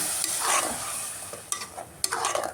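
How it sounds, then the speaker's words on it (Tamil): A spoon scrapes and stirs ground tomato into a cashew paneer gravy in a pan over low flame, with a soft sizzle underneath and a few sharper scraping strokes near the end. "இதையும் நல்லா சேர்த்து கிளறிக்கலாம்"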